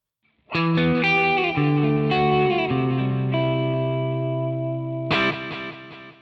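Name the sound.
electric guitar with stereo delay and reverb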